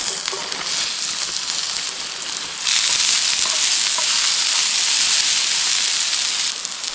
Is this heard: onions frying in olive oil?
yes